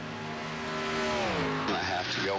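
A race car in an Xfinity Series club race, heard onboard, its engine note sliding down in pitch as it slows for a corner, then a higher rasping tone cutting in; loud and close throughout.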